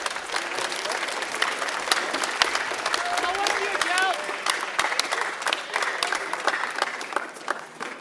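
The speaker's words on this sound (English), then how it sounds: "I think that deserves applause" Concert audience applauding at a La Honda last-day concert, sustained dense clapping with cheers and voices mixed in throughout.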